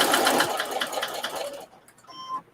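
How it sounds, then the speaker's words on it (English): A sewing machine stitching a quarter-inch seam on a placemat, a fast, close, steady mechanical whir with rapid needle pulses that slows and stops after about a second and a half, followed by light handling clicks. "go ahead and make my 1/4 inch seam"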